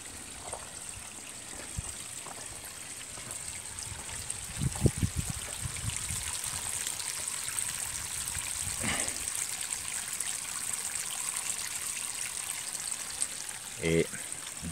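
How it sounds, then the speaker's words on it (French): Water trickles steadily over a small cascade in a garden pond, a faint continuous splashing with a few brief louder knocks; no one talks. "Vous entendez un tout petit peu l'eau qui coule"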